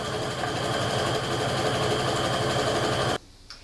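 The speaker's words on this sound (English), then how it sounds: "So now I can go ahead and just sew all the way down." Fast, steady humming from a sewing machine as it stitches a fabric strip set in one continuous run, close and even, then it stops abruptly near the end, leaving a quiet room and a small click.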